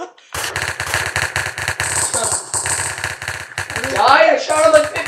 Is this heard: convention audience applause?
no